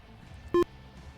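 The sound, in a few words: auto indent beeps in video game Forza Motorsport 7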